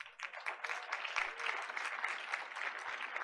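An audience at a board of education meeting applauds a parent award winner coming forward, moderately distant clapping that holds steady for a few seconds.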